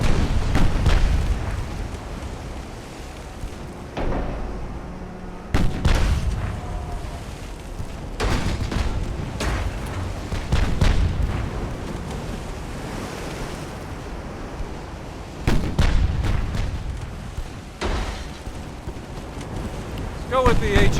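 Naval gunfire in Ultimate Admiral Dreadnoughts, with booming broadside blasts at several points over a steady wash of ocean surf and wind, while someone talks intermittently.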